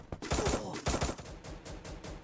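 Rapid bursts of gunfire in a video game shootout, a quick, dense volley of cracking shots in short clusters, fairly loud and close with no voices over it.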